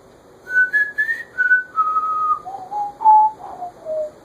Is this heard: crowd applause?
no